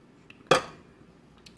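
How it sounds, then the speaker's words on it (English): A fork is picked up in a kitchen, giving one bright metallic clink of cutlery, with a fainter tap just before and another soft knock at the end, all close and quiet. "let me get a fork"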